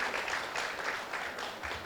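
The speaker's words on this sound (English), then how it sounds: "big round of applause for Dr." Audience applause for a panelist at a plenary panel discussion on wellbeing, a steady wash of clapping that holds for about two seconds with faint murmuring underneath.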